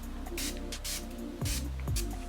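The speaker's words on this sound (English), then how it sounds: "Spray, spray, spray." Several quick hissing bursts of aerosol hair spray, close up, spaced in a short rhythmic series with faint clicks between.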